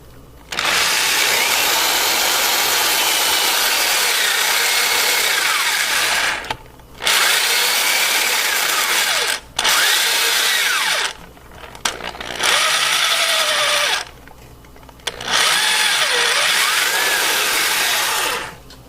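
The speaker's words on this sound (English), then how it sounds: "This will require moving the drill several times to clear chips and clean out chips." A compressed-air drill bores into a BMW M54 aluminum engine block for a Time-Sert thread repair. It runs in loud, close bursts of whirring, with brief pauses between runs to clear chips.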